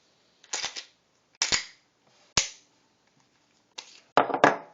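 Sharp dry-fire clicks of a Ruger SR9c pistol with no magazine: four or five crisp, close snaps spaced about a second apart, the last two coming in quick succession.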